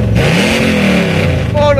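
Chevrolet Chevelle SS, the Fast and Furious car, its engine revving loud and close with a rising then settling pitch, under excited talk throughout.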